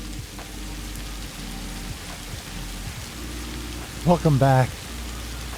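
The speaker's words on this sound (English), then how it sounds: "I did set it to kittens and puppies so we could get some rain." Steady rain falls across the open world of the video game Satisfactory, a constant wash of noise under a voice, with a brief louder burst near the end.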